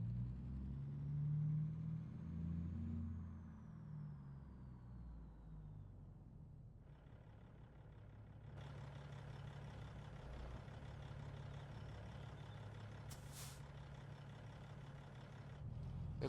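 A truck engine runs steadily in a video game, a low rumbling drone that holds throughout with slight shifts in pitch while driving, joined by a brief whine and some broadband noise later on.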